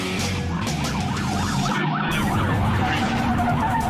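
A car skids out of control with a sustained loud tire screech and engine roar while police sirens wail close behind during a chase.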